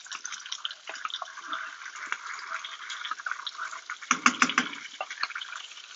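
Campbell's pork and beans are emptied from a can into a pan, giving soft wet plops and slithering drips with a cluster of thicker splats near the end, fairly quiet and close with no talking.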